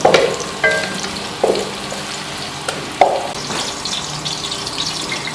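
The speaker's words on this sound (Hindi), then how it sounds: "प्याज को हम अच्छी तरह ब्राउन करेंगे। इनको ब्राउन करना है, ब्लैक नहीं करना।" Onions browning in oil or ghee for a beef pulao, a steady low sizzle with a few sharper stirring clatters and scrapes at intervals, close by with no voices.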